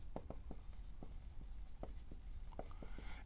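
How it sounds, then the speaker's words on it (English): A pen writing notes by hand on paper during an anatomy lecture, giving a quick series of faint scratchy strokes in an irregular rhythm over a low background hum. "I'm just going to write them down here briefly for you."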